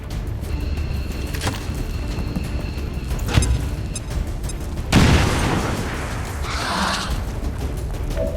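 An explosive blast in the video game XCOM 2, a frag grenade going off: a sudden broadband boom around the middle of the clip over a steady background of game ambience and scattered smaller pops.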